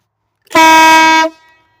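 A single loud blast from a new air horn, strong and brassy, lasting under a second and cut off sharply, with a short ringing tail and no other sound.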